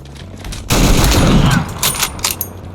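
An AR-15 modern laser-rifle mod in Fallout 4 fires a rapid burst of loud gunshots in the video game, a dense close volley that tapers into a few scattered reports.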